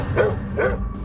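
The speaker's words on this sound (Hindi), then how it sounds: "आसपास रहने वाले कुत्ते अचानक भौंकने लगे।" Dogs living around a temple bark at night, two hoarse barks about half a second apart, close and fairly loud against a low background rumble.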